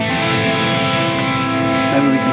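A high-gain distorted electric guitar runs through the stock 6505 amp model on a Headrush Prime with no boost, giving a dense, sustained chord that rings steadily and loud for about two seconds.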